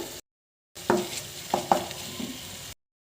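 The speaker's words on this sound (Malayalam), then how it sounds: "എന്നിട്ട് നല്ലപോലെ മിക്സാക്കി കൊടുക്കുന്നുണ്ട്" Tomato curry is stirred in a frying pan, with a few sharp spoon scrapes and knocks over a soft sizzle, close by and without talk, in a short burst between silent gaps.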